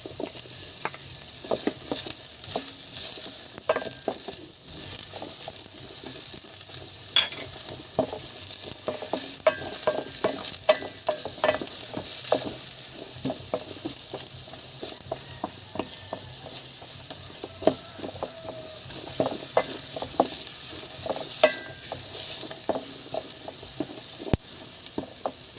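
Garlic and onion sauté in hot oil for Filipino-style fish escabeche, a continuous loud sizzle with frequent spatula scrapes and clicks scattered across a long stretch.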